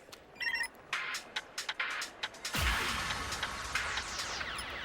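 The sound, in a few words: mobile phone ringing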